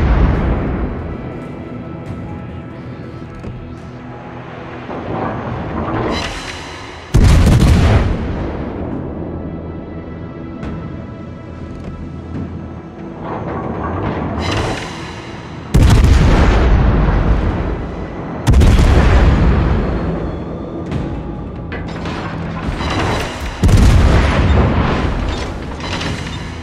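Heavy naval guns fire in a warship video game, likely aboard the Hindenburg, with deep booming salvos repeating every few seconds, loud and close, each blast trailing into a rumbling roar.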